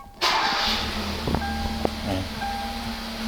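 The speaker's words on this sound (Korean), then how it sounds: "네, 시동 한번 걸어볼게요." A Hyundai Accent 1.4 VVT Modern is started, with an abrupt catch into a steady, fairly quiet idle heard from close by and no talking.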